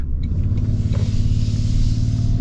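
A 2025 Toyota Tundra 1794 hybrid pickup with a V6 engine accelerates hard, giving a loud, steady, close engine rumble that rises slightly with no talking.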